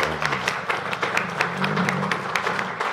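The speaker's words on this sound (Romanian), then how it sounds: "acum trebuie să aplaudăm noi." A small audience claps at a doctor's coffee-chat talk, scattered, uneven handclaps in a light patter, with faint voices murmuring beneath.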